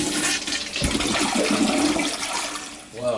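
A newly installed toilet flushing in a renovated bathroom: a loud, close rush of swirling water that churns steadily for several seconds, ending in a gurgling draw.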